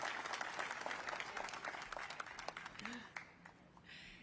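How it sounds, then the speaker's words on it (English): Audience applause at the Los Angeles Area Emmy Awards ceremony, a dense, sustained clapping from a large crowd that fades out near the end. "Give them a warm round of applause"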